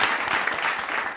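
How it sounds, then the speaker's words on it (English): A small group claps together in a quick, dense round of applause, close and fairly loud, lasting just over a second. "let's just get a quick round of applause."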